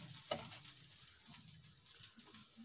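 Aloo paratha frying on a pan over a slow flame, a quiet, steady sizzle with small crackles, close and faint, with no talking.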